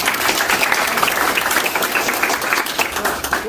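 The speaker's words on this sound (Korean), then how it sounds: "박수 한번 치겠습니다." Sustained applause from an audience at a military academy appointment ceremony for newly accepted combat non-commissioned officer candidates, a steady dense wash of clapping filling the whole moment without speech.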